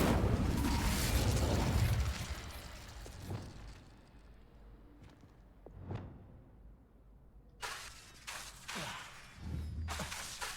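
Incendio fire spell cast in Hogwarts Legacy: a loud fiery burst and whoosh up front, fading into quieter magical pops, swishes and mechanical clicks, then another cluster of bright bursts toward the end.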